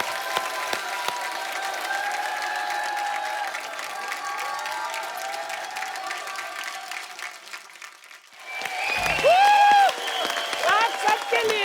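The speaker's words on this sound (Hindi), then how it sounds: "जोरदार तालियां हो जाएं।" Audience applause at a Hindi stage show tribute event, steady clapping from a crowd for several seconds, then shifting into louder music and voices near the end.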